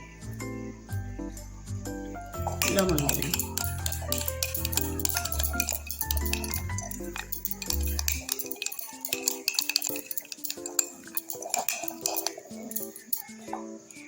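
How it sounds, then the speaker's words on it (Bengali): Yogurt with a pinch of salt is whisked in a bowl by hand, making a quick run of light clinking and scraping taps against the bowl over soft background music that drops away halfway. "দইটা আমি ফেটিয়ে দিব।"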